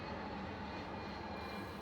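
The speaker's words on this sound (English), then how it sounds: "Sorry about the jet." A jet aircraft passes overhead, producing a continuous, loud, broadband roar that fills the whole stretch with no talking.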